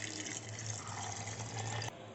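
Water pours steadily into a jar holding soaked rice and urad dal, a continuous close splashing rush that cuts off near the end.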